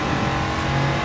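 Race car engine in GRID 2 holds a steady, loud, continuous drone with a low growling tone throughout, close and unbroken, with no voices over it.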